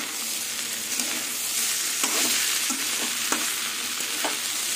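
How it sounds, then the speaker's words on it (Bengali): Whole green chillies fry with potato and spiny gourd in hot oil, a close, steady sizzle broken by a few sharp spatula scrapes and stirs against the pan. "চার পাঁচটা কাঁচা লঙ্কা দিয়ে দেবো, গোটা কাঁচা লঙ্কা দিয়ে দিলাম।"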